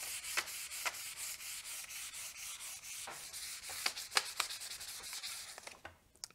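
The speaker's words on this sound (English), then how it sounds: "Just going to take some sandpaper here." Sandpaper rubs steadily across a metal surface during preparation for a wheel bearing grease test on a Mercedes-Benz. The scraping is continuous and fairly faint, with a few sharper strokes and no talking.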